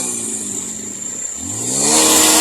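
Hero motorcycles at a picnic outing idle with a low engine drone, then one revs up loudly nearby, its pitch climbing steeply as the throttle opens.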